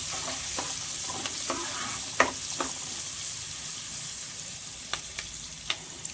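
Onions stirred with cumin and turmeric in a hot pan for a potato and drumstick curry; a steady sizzle runs throughout, and a few sharp scrapes and taps of the spoon against the pan stand out. No voices.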